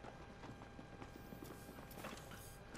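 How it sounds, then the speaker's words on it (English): Nearby players' footsteps in Apex Legends patter in a quick, irregular rhythm, faint and muffled under a steady wash of in-game ambience and mechanical clatter. "I hear footsteps"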